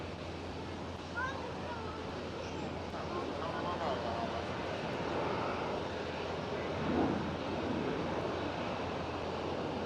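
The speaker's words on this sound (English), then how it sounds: "There goes the Air Transat A321neo." An Air Transat A321neo airliner taxis at Amsterdam Schiphol airport, a broad steady jet engine rumble at middle distance that swells slightly midway, with someone talking over it.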